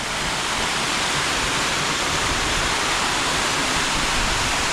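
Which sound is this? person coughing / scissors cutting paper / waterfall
waterfall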